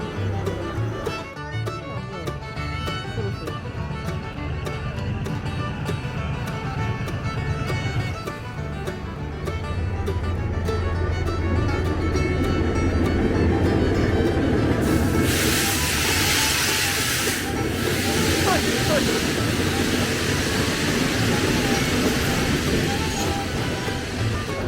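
A train on Thailand's Nam Tok line rolls slowly into a station, a steady rumble and hiss building into a broad wash of rail and brake noise that stays loud throughout.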